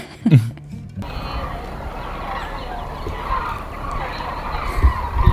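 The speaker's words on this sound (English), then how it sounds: "But now they're like changing direction and they're like making a lot of noise" A flock of birds changing direction outdoors at Palo Duro, calling noisily with gobbling, fowl-like cries that swell into a dense, continuous chorus after a brief quieter opening, fairly loud and sustained throughout.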